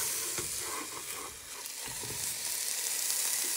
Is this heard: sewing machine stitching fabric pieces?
no